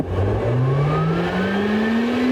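Throttle pressed on a stationary McMurtry Spearling electric hypercar makes its downforce fan whine rise steadily in pitch, a loud, close, continuous electric whir climbing from start to finish with no talking.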